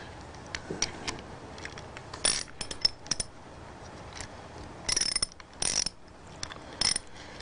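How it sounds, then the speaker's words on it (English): A bolt is slid into the air receiver of an Autococker paintball marker, giving faint metallic clicks, scrapes and ratchet-like snaps, close and quiet with pauses between. "Put the bolt in there."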